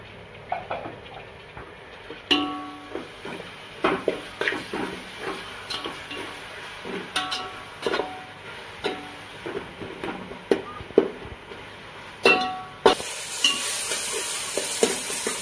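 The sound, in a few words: tomatoes frying with onions in a pan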